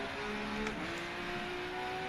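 A race car engine in the Rennsport racing game on PS5 holds a steady high drone throughout, its pitch holding level and then climbing slightly.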